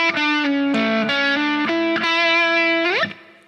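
Electric guitar with effects and distortion plays a run of notes, each note struck cleanly and sustained, ending in a rising slide with vibrato. It is loud and close with no talk.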